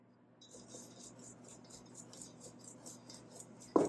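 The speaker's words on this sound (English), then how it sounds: "I have to scrape my pastry cutter here" A pastry cutter scraped while cutting Crisco into pastry dough, giving a series of soft, rhythmic rasping strokes up close, ending in a sharper knock.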